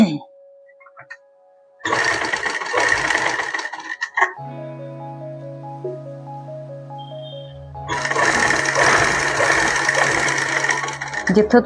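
Sewing machine stitches a neckline onto a ladies' kameez in two loud, rapid bursts of whirring stitches, separated by a pause filled with quieter, steady tones.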